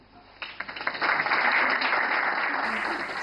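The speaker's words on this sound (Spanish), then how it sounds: "Un aplauso." Applause greets a speaker at a medical forum, starting with a few separate claps and quickly swelling into steady, fairly close clapping that carries to the end.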